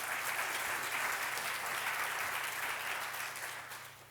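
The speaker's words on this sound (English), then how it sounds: "So a round of applause just on that moment alone." Sustained applause from an audience at a speaker event, a full and steady round of many hands that tapers slightly near the end.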